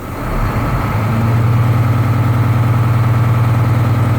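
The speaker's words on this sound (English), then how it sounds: "Go ahead and step on the gas pedal." A truck engine rising from idle to a sustained higher rev as the gas pedal is pressed during a brake test, a loud close steady drone with a low rumbling hum and no talk over it.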